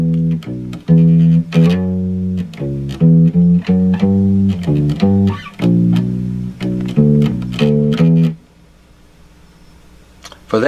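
Bass guitar plays the bridge riff of a song, a loud, close run of plucked, sliding notes in steady rhythm that stops near the end, leaving a faint hum.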